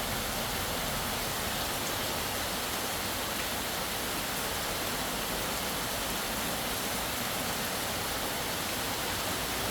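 Heavy rain pours down steadily at a garden-style resort in Tha Muang, Kanchanaburi, a soft, even wash of falling water with no break, moderately quiet and unaccompanied by voices.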